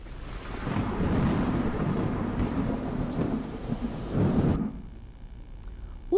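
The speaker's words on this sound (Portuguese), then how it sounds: "Será que o trovão, o som trovão, é um som grave, ou é um som agudo?" A long rumbling roll of thunder amid steady rain, loud and broad, fading out abruptly near the end before a brief faint click.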